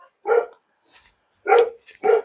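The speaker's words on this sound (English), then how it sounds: "The dogs are going crazy." Dogs barking indoors at someone arriving home, three short sharp barks with pauses between them, fairly close and loud, with no talking over them.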